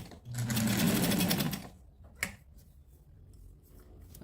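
A sewing machine stitches shirring elastic onto fabric for a child's dress in a quick, close rattling burst of about a second and a half, followed by a sharp click and quiet handling noises.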